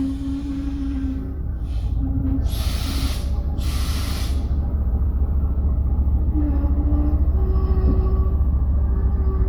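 A train rumbles steadily along the track with a constant low roar, bursts of hissing air, and occasional squealing tones from the wheels.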